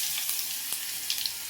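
Tomato rasam spice paste of ground pepper and garlic with two dry red chillies frying in a pan, a steady close hiss of oil with faint crackles, no voices.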